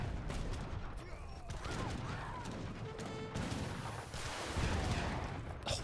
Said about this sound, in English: Oh, rockets do so much damage.